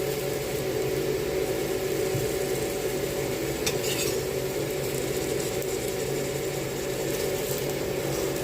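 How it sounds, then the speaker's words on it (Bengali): Potatoes fry in hot oil in a wok as a continuous, even sizzle that holds steady throughout, with a brief clink of a utensil partway through and no talking. "কড়াই তেল গরম করে আলুগুলো দিয়ে দিয়েছি ভাজার জন্য"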